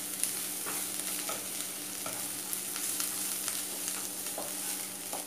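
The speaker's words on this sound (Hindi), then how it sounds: "अब आप इसे हाई फ्लेम पे स्टर फ्राई कर लीजिए।" Cabbage and capsicum stir-fry over a high flame for hakka noodles, producing a loud, continuous hiss with occasional light tosses and scrapes in the pan and no speech.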